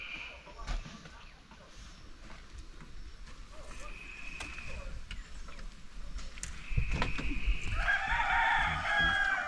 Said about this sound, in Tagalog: Ang kulit talaga yung manok, oh.